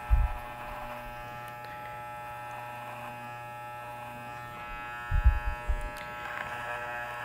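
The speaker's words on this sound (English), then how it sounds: "place a clipper over your comb." Electric hair clipper held over a comb while cutting hair, a steady close buzzing hum throughout, with brief low thumps of handling at the start and again around five seconds.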